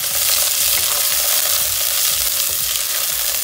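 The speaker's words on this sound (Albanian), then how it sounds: "Gjithmonë skuqja e perimeve bëhet për ta nxjerrë supën më me shije." Peas and potatoes for arugula soup fry in a pot, giving a loud, dense, continuous sizzle with faint stirring scrapes underneath and no talking.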